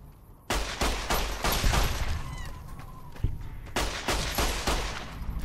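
Rapid bursts of gunfire from the video game Fallout: New Vegas, loud and close, with repeated volleys and sharp single shots over several seconds and no talk over them.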